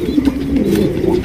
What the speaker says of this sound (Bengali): একজোড়া ককা আছে অলরেডি কিন্তু ডাকাডাকি শুরু করে দিচ্ছে